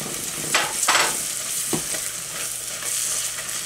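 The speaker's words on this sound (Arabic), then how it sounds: "هقلبه بسرعه، الشعريه بتتحمر بسرعه جدا" Vermicelli fries in a pot for Egyptian koshary while a spoon stirs it briskly, giving a steady sizzle broken by a few quick scraping strokes in the first two seconds, without any voices.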